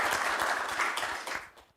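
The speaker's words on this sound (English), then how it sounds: "Give big applause." Audience applause at a systemic risk analytics conference session, a dense burst of many hands clapping that carries on for a moment, then thins and fades out.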